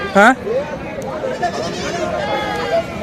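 A goat bleats loudly nearby in one sharp wavering cry, then fainter bleats follow amid a busy crowd of voices at a goat and sheep market.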